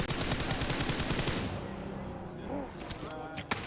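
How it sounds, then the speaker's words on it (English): Rapid automatic gunfire from the PUBG Mobile video game during an esports match, a fast rattling burst of shots for over a second, then quieter stretches with a few scattered single shots and a commentator's voice underneath. "Wants to be ahead of the zone, drawing the fire of Regnum Karya."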